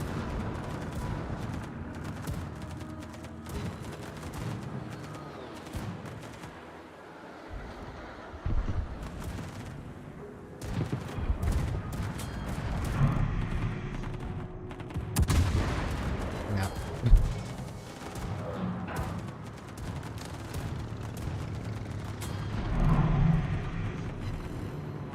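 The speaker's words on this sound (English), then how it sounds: "Where did those shells go? I didn't see the explosion on the rock." Naval gunfire in World of Warships, a warship firing shells while close to an island: heavy booming salvos and low rumbling blasts recur over a dense, continuous battle din, with a loud burst near the middle.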